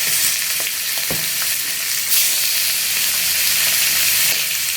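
Shrimp frying in a hot wok, a loud, close and continuous sizzle with a few soft stirring knocks and no talking.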